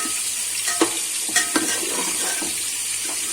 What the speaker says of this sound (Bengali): দেখুন বন্ধুরা আমার পেঁয়াজটা মোটামুটি ভাজা হয়ে গেছে।